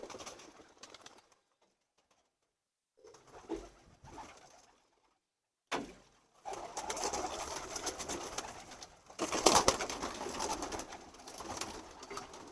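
Pigeons cooing on a rooftop in soft, intermittent bursts separated by silent gaps, followed by denser fluttery bird sounds near the end, fairly faint overall.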